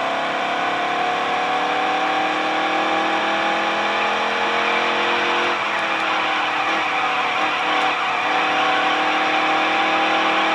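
A race car engine in the Dirt to Daytona video game holds a loud, steady high-pitched drone as it pulls through the gears. A brief dip and a few shift blips come midway, and the roar stays sustained throughout.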